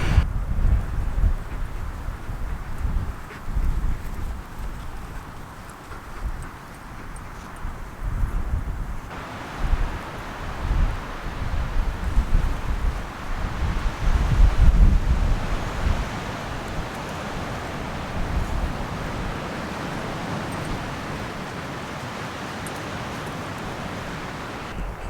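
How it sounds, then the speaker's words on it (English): Wind blowing at a reservoir lake in Eleven Mile State Park with some tree cover, a broad rushing gust noise that rises and falls in loud surges, rumbling against the microphone with no voices. "I'm in some tree cover here, so slightly less wind."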